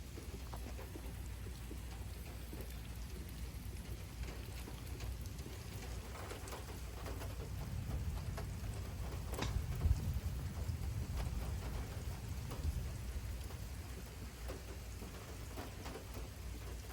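Heavy downpour from a severe thunderstorm with 30 mph wind gusts and close lightning hisses steadily throughout, while a low rumble of thunder swells midway before fading back under the rain.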